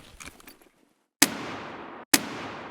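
Stock AK rifle firing in the shooter game Escape From Tarkov during a night raid, two sharp loud single shots about a second apart, each trailing off into a decaying echo.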